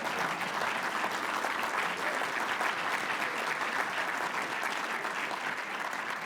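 An audience at a political speech on a carbon tax repeal bill gives steady, dense applause, a continuous wash of clapping with no pause and no clear talking.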